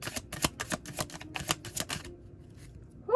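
Tarot cards being shuffled by hand, a quick run of crisp, flapping riffles and clicks for about two seconds, then near silence.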